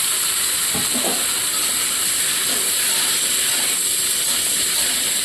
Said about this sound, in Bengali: এঁচোড়গুলোকে একটু ভালো করে ভেজে নিই।